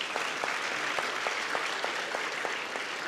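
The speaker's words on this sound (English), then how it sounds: "If you know me, give me an applause," Auditorium audience at an awards ceremony applauding, a steady even patter of many hands clapping throughout, close and continuous with sharp individual claps standing out, no speech.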